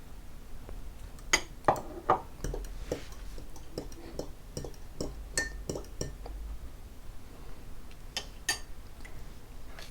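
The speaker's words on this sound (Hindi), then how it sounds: "अब हम इसे गिलास में निकाल लेते हैं। तो मलंगा डाल के इसको मिक्स कर लेते हैं।" A coconut smoothie is poured into a glass and stirred, producing a series of light, irregular clinks and taps of a utensil against glass, close and fairly quiet, with no talk.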